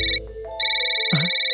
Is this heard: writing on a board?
no